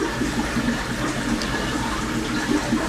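Water pours steadily from a PVC outflow pipe into an aquarium sump, a continuous close splashing rush with no breaks.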